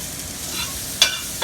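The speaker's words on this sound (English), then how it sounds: "Get this stirred around." Carrot, onion and celery sizzle steadily in a hot pan as they are stirred, a soft continuous frying hiss with a brief scrape of the utensil near the end.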